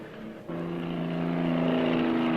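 A 1966 Chevrolet engine hums steadily in a precision-control driving demonstration, rising slightly in pitch and loudness after a brief shift, close and continuous with no talking.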